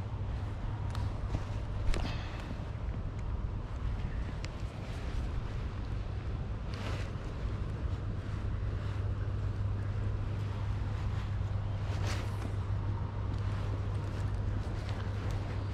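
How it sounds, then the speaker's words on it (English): Wind blows steadily outdoors by the River Lea, a constant low rumbling buffet with a few brief gusty bursts, close to the microphone and with no talking. "There is a bit of wind, which helps or not with the casting"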